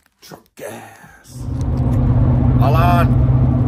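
A truck engine starts and settles into a loud, steady low rumble up close, preceded by a few brief voice sounds and handling noises.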